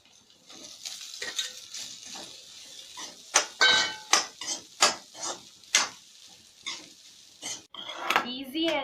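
Cooked rice added to a pan and stirred for egg fried rice, with clattering scrapes and knocks of a metal spatula against the pan in an irregular run of strokes, close and fairly loud over a faint sizzle, without speech.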